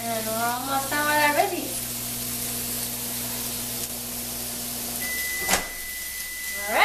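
Vegetables fry in a pan with a soft steady sizzle, while a tonal hum and brief scraping or clattering sounds rise over it now and then.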